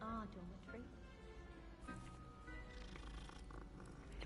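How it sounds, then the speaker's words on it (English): A cat purrs in Hogwarts Legacy, a soft steady rumble lasting throughout, with faint game music and ambient tones layered behind it. "Get all of the purrs."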